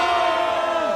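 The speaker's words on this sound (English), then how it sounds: "A cheer might be nice," Cartoon crowd cheering for a school mascot, a loud dense roar of voices with a sustained tonal cry that falls off at the end.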